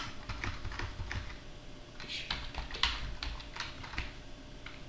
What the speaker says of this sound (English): So just type shlink.